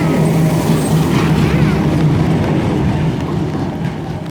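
A Class 70 diesel locomotive passes in the rain, heard as a loud, continuous low rumble and engine drone that stays strong, then eases slightly toward the end, with no talking.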